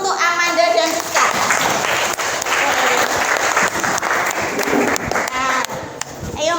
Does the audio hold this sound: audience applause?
yes